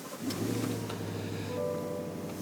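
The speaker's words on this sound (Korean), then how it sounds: "시동을 한번 켜보겠습니다." A Chevrolet Tahoe Dark Knight full-size SUV starts from its push button, and its engine settles into a steady, low idle hum heard close up from inside the cabin, with no talking.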